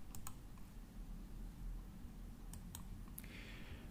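A few sharp computer mouse clicks, faint and close, in a quiet room, spaced out in two small clusters with a pause between.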